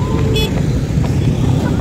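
Motorcycles cross a bridge on a road in Aceh Singkil one at a time, a loud low engine rumble close by with a brief horn-like tone, while voices talk over it.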